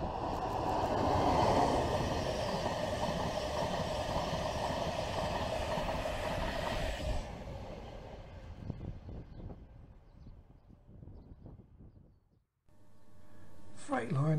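Class 91 electric train on a King's Cross to Leeds service passing at Marholm: a loud sustained roar and rumble of the train going by, fading out over about twelve seconds, with a voice speaking over it.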